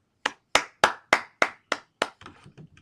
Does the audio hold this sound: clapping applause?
yes